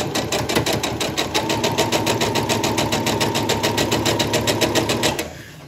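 A sewing machine stitching quilt block seams runs steadily at close range, its fast even needle rhythm loud and continuous for about five seconds before slowing and stopping, with no talking.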